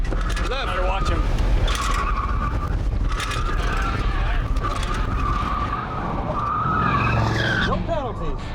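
A 1974 Ford F100 truck skids and squeals its tires through a cone course, with the engine revving, repeated tire screeches rising and falling, and people talking over the noise.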